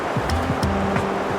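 Ocean waves wash in at a surf beach beside Thurso Reef, a steady close surf hiss with low rolling swells lasting a moment.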